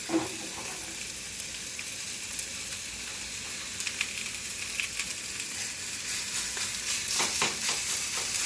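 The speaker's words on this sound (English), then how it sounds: "You hear that sizzle?" Steak sizzles steadily on a hot grill, a continuous crackling hiss with scattered pops, close and fairly loud.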